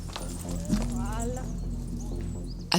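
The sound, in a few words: Franches-Montagnes horses walking on slippery ground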